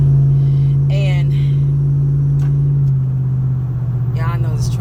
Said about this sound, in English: I know this truck loud to start with